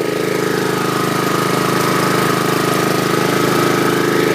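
A 2011 Troy-Bilt push mower with a Honda engine runs steadily close by, a loud, even droning hum with a fast rhythmic chug underneath, holding constant throughout with no voices.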